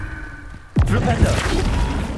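Flipendo spell cast in Hogwarts Legacy, a sharp whooshing burst followed by a thumping impact and a lingering rumble of combat noise, with a voice heard beneath.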